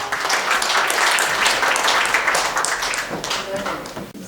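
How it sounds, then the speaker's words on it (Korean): Audience applause welcoming a laughter-therapy lecturer at an anniversary ceremony and lecture event in Busan: dense, steady clapping filling the hall for about four seconds, with crowd voices mixed in, then tapering at the end. "여러분 큰 박수로 맞이해 주시기 바랍니다"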